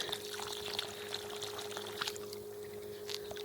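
Water pours and trickles steadily from a weakly pumping water pump, with a constant low mechanical hum underneath throughout.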